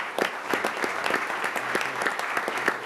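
Applause at a Folsom city council meeting honoring student athletes, a room of moderate-sized audience clapping steadily with distinct individual claps, mid-distance and alone without talk.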